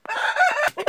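A single loud, close crow from a heavy rooster on a farm, a rising then sustained call that breaks off near the end, with no talk over it.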